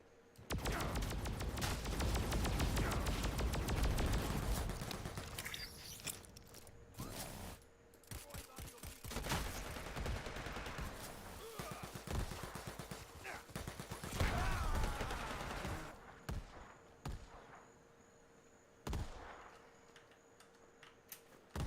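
Explosions and gunfire fill a round of the video game Predator: Hunting Grounds, with a long, loud, dense barrage of blasts and rattling shots that eases into scattered bangs and pauses near the end.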